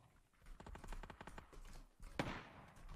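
Gunfire in PUBG: a rapid automatic burst of close, sharp shots fires in quick succession, then after a brief pause a single loud crack rings out, all against a quiet background.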